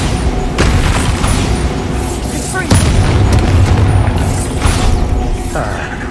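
Loud, dense booming blasts from the Bombarda explosion spell in the video game Hogwarts Legacy, several heavy bursts over continuous rumbling game audio with mechanical clatter, a voice calling out briefly.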